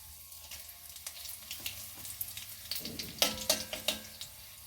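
Chili and fenugreek seeds sizzle and crackle in hot oil for a sadya-style pumpkin curry, a steady frying hiss with bursts of sharp pops growing busier partway through.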